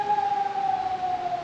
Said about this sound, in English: And there is the second siren I was talking about.